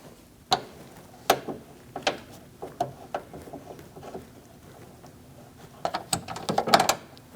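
Bolts being fitted into a 2016-2019 Chevrolet Cruze trunk during a trunk lock actuator replacement, heard as close, irregular metallic clicks and taps spread across the clip, clustering into a quicker burst of clattering near the end.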